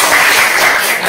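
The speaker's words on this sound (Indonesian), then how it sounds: "boleh tepuk tangan lagi" A classroom group claps in a dense, steady burst of applause that lasts the whole moment, loud and close.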